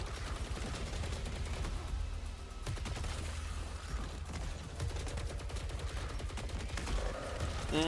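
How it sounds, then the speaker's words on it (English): Rifle fire in Saros crackles in ragged bursts over a dense game soundscape, several sharp shots standing out against a constant low rumble, fairly quiet overall. "Oh, my rifle's so weak."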